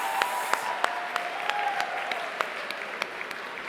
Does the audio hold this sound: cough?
no